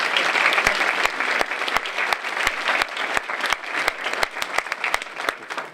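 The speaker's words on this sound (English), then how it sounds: "give yourselves a round of applause because everyone has worked really hard" Audience applause at a keynote on collaboration: dense sustained clapping from a crowd, loud and close, with sharp individual claps standing out above the wash throughout.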